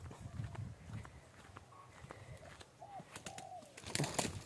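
A new decoy bird calls outdoors. A few short, faint tonal calls sound at a distance, with soft rustling and movement nearby.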